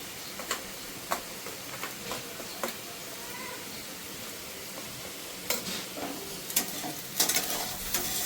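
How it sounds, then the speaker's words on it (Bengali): Potatoes and onions fry in a pan with a soft, steady sizzle, broken by intermittent sharp taps and scrapes of a spatula stirring them. "এবার আলু পেঁয়াজটা ভালো করে ভাজা হয়ে গেল"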